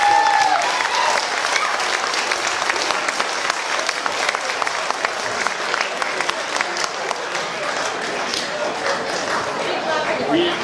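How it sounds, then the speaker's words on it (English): Sustained applause from a big room of wedding guests, dense and even throughout, with a few voices faintly cutting in near the start. "one more round of applause for you"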